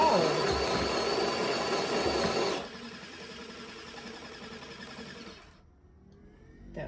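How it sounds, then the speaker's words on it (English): A Spinn coffee maker's built-in grinder whirs loudly for a few seconds, then drops to a quieter mechanical hum that fades and stops near the end. "That would be the grinder."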